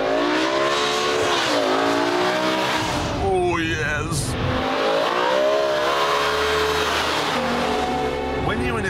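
A BMW M5 saloon engine revs hard and climbs through the gears, its rising, sliding pitch loud and close, with a brief tire squeal and a man's short exclamation over it.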